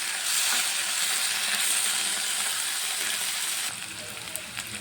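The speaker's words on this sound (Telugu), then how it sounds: "ఇప్పుడు ఇందులో అల్లం వెల్లుల్లి పేస్ట్ యాడ్ చేసుకుందాం. 2 టేబుల్ స్పూన్లు యాడ్ చేశాను నేను. ఇది పచ్చివాసన పోయే వరకు ఫ్రై చేసుకోవాలి" Two tablespoons of ginger garlic paste frying in a pan for a raw mango fish curry, giving a steady loud sizzle that drops suddenly near the end, with faint stirring scrapes.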